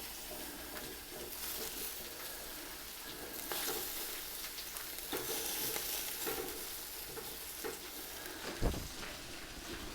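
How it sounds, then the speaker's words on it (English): Sausages sizzle in a frying pan as they are turned over, a steady close hiss of frying fat with occasional scraping and stirring clatter, one sharper knock near the end. "Right, let's turn these sausages."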